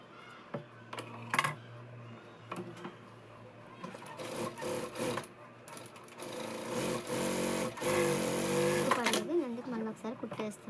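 A sewing machine stitches the lining of a Punjabi dress in short bursts and then a longer run of rapid mechanical whirring, close by, with someone talking between and over the stitching.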